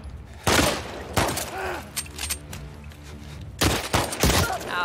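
Gunfire in The Last of Us Part II: a few loud, sharp shots in separate bursts, with a short rapid volley at the end and grunts of pain between them.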